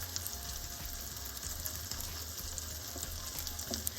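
Feta and corn fritters frying in a pan, a dense, even sizzle with fine crackles that holds steady throughout at moderate volume, with no voices.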